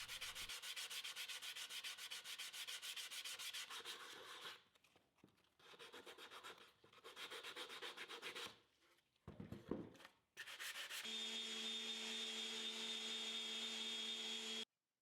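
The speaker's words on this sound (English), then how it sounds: "And then hand sand all the edges with a 220 grit pad." Hand sanding along the edges of a CNC-carved wooden display with a 220 grit pad: steady close rasping strokes with brief pauses, ending in a continuous whirring hum.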